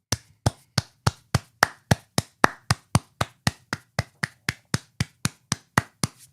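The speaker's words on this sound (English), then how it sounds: "This is the fast clap, which I'll do a number of times." Fast hand clapping, about twenty-three sharp, evenly spaced claps at a quick steady pace, close and crisp with no talking.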